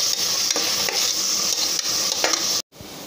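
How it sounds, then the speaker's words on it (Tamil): Tomatoes sauté in a pan for pressure-cooker prawn biryani, giving a steady close sizzle with scraping stirs throughout and a brief pause near the end. "தக்காளியும் போட்டேன், நல்லா வதங்கட்டும்"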